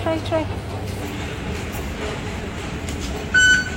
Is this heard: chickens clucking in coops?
no